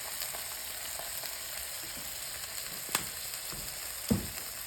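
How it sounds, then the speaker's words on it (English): Steady, close sizzling of a burger patty frying in a hot pan, a constant crackling hiss with a couple of sharp pops. "Keep frying it up."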